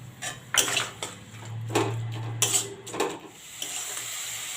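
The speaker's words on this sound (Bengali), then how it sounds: "আদা রসুন সব আমি ভালো করে ভেজে নেব" Tomato, ginger and garlic frying in a pan, with metal utensil scrapes and clinks against the pan over a low steady hum and soft sizzle, no talking.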